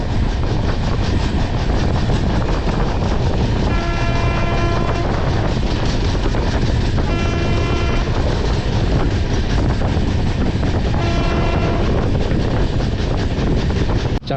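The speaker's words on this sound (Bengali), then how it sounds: "আর এই হচ্ছে আমাদের পদাতিক এক্সপ্রেস।" The Padatik Express passenger train running at speed, heard from on board as a loud, continuous rumble with rhythmic wheel clatter and wind buffeting throughout.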